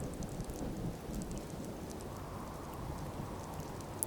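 A thunderstorm rolls through a Fallout 4 game world, with steady dense rain and low rumbling thunder, fairly quiet and continuous, and one brief sharp tick near the end.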